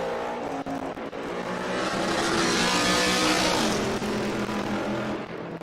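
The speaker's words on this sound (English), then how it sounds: "Man, rev limiter, rev limiter, rev limiter." Race car engine on a hillclimb course, a loud roar that swells and holds high, bouncing off the rev limiter with a rapid stuttering buzz, then fades slightly as the car passes.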